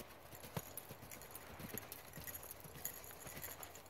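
A horse canters slowly in a round pen, its hooves thudding in a steady rhythmic clip-clop on soft ground, moderately distant and alone.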